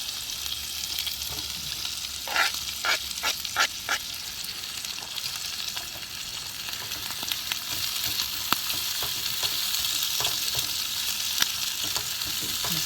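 Sausage, potatoes and onions fry on high heat in a pan at a camp cookout, giving a steady close sizzle with scattered crackles and pops and brief scraping stirs.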